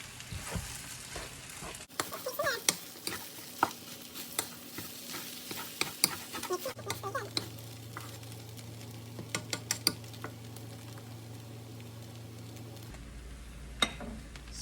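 Ham fried rice sizzles in a pan while a utensil stirs and scrapes it in quick, irregular clacks over a low steady hum, with brief pauses between bursts of mixing.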